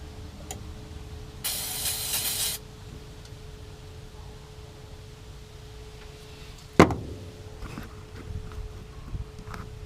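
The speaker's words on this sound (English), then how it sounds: "Let me spray a little more in there." A short hiss of spray into the 327 V8 engine of a 1967 Chevy C10 truck bursts out for about a second amid quiet ticking and clicks, followed later by a sharp knock.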